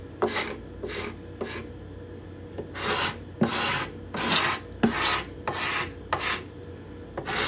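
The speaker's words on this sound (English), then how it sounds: "The scraping sound is different on this guitar" A scraper drawn along the binding and purfling of a cedar-top guitar, a series of about ten rasping strokes, some short and some longer, close and dry with brief pauses between, no talking.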